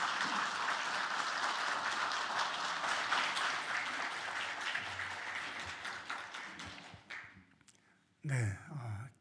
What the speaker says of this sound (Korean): 나오실 때 큰 박수로 환영해 주시기를 바랍니다.